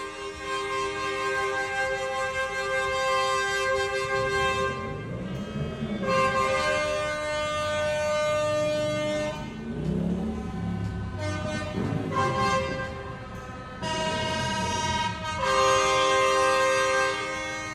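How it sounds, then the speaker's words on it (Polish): Loud tractor horns honk in long sustained blasts during a farmers' protest at the European Parliament, several overlapping at once, with short pauses between bursts and a low engine rumble underneath. "Ciągniki wjechały na ulice, a głośne trąbienie mogło obudzić mieszkańców"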